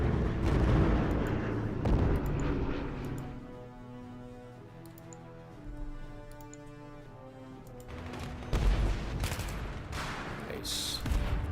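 A bombing strike in the wartime strategy game Total Victory World Conflict 1939-1945 opens with dense bursts of rumbling explosions. A quieter, tonal stretch follows, then more heavy blasts and crackling near the end.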